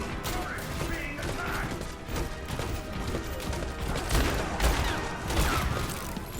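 Dense gunfire in the Overwatch Halloween Terror event, rapid shots mixed with crashes and mechanical game effects poured continuously onto a boss, loud and busy throughout.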